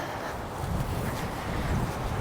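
Wind buffets the microphone outdoors among rows of snapdragons in a steady low roar, gusting slightly stronger, with no voices.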